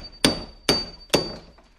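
Three sharp metallic hammer strikes on a masonry chisel driven into a wall through metal netting, evenly spaced and loud, ringing briefly with no talking.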